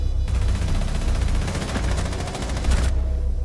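Rapid automatic gunfire from Buck in a video game, a dense sustained burst of shots lasting a few seconds, loud and close with no talk.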